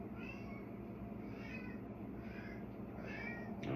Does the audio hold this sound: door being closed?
no